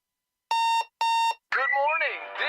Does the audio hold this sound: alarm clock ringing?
yes